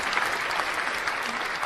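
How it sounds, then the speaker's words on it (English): Canned applause effect: a dense, steady wash of many hands clapping at even loudness for a brief moment, with no voices. "I can actually give you a massive round of applause here"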